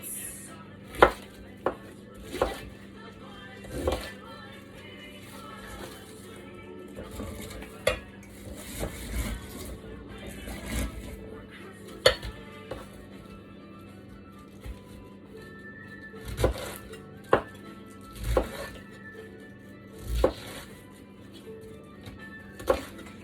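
A knife chops through a compact cabbage core on a board for sauerkraut, with sharp irregular thuds spaced over a quiet kitchen background.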